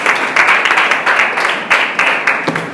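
Congregation in a church service breaking into sustained applause, dense overlapping hand claps rising and falling in waves over nearly three seconds, fairly loud and close.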